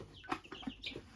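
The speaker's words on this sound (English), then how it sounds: "These are California tan pullets." Young California Tan pullets cluck softly in a short, quiet burst of several brief calls on a homestead.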